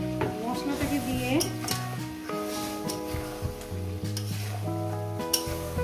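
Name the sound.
frying chicken with spices being stirred in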